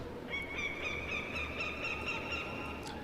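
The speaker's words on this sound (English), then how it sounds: "I forget what bird that is. We have those in Maine." A bird calls in a video game about dwarves, a series of repeated honking, goose-like cries over a steady low ambient rumble, moderately clear and without talk.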